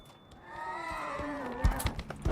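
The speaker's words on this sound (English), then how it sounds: "I love the horse, though." A horse from Devil May Cry 5, linked to an Elder Geryon Knight of the Abyssal Cavalry, lets out a rising, drawn-out neigh, followed by a few heavy hoof thuds near the end.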